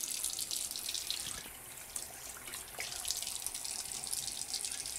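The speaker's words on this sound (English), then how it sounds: "you turn on the faucet, you want to wet your hands first" Water running from a faucet while hands are wetted under it, a steady close splashing rush that continues throughout without talk.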